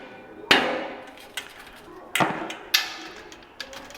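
Hammer blows bang exhaust tips into place on a custom tribute truck, a few sharp metallic strikes spaced unevenly, close and loud against a quiet background.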